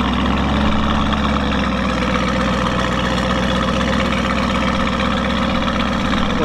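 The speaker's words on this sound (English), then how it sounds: "We have literally like a straight pipe Urus coming through right now. Sounds amazing." A Lamborghini Urus fitted with a straight-pipe exhaust runs close by, giving a deep, steady low rumble with a raspy idle texture that holds even throughout, with no talking over it.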